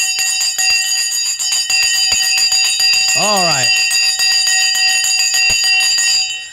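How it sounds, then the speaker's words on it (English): A bell rings loudly and keeps sounding in a bright, sustained metallic tone during a live trading stream, with a brief rising whistle-like sweep midway and a voice speaking briefly underneath. "ring the Sensei bell"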